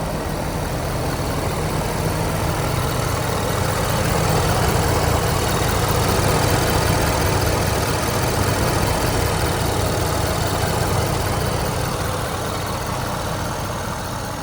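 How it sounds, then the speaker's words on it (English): A 2015 Ford F550 diesel 4x4 crane truck idles with its PTO engaged, a steady, dense low rumble and clatter holding evenly for about fourteen seconds, close by and without speech. "PTO is on, parking brake is set, the truck idles itself up."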